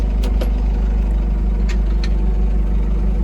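A tractor engine idles steadily on grass, giving a constant low throbbing drone with a few faint clicks and clatters on top.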